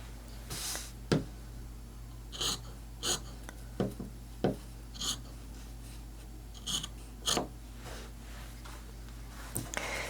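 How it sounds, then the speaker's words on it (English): Scissors trimming fabric quilt blocks: short crisp snips repeat in irregular bursts, about a dozen quick cuts against a quiet room hum, close by. "I'm just taking my scissors and trimming the tops."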